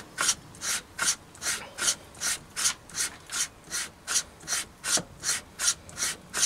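Lapping the gib strip of a Myford ML7 lathe compound slide: a steady back-and-forth rubbing rasp, about sixteen even strokes in a regular rhythm, close and fairly loud, with no voices.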